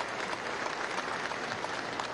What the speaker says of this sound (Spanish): Un aplauso caluroso de la clase obrera a la Fuerza Armada Nacional Bolivariana